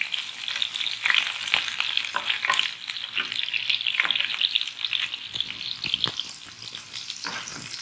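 Garlic and green chilies frying in a pan give a lively, crackling sizzle with repeated stirring scrapes, close and continuous, with no talking.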